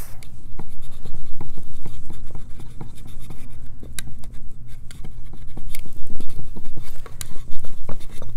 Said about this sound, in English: I'm just gonna take them and rub them individually